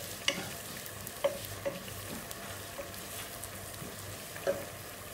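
Turmeric powder stirred into rabbit roast frying in a pan gives a steady close sizzle, broken by a few sharp spoon scrapes and clicks against the pan.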